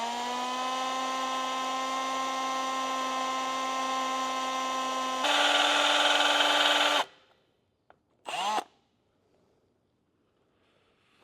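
A drill whines steadily at high pitch, rises briefly, then cuts out, followed by one more short burst, close up with no talking, drilling out a broken bolt in a Honda CR250R swingarm.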